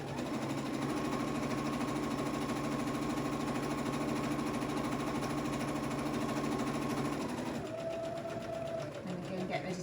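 A sewing machine stitches steadily along the edge of a hobby bag, a continuous motor whir with rapid needle clatter running for most of the stretch, then stopping near the end as a voice speaks briefly.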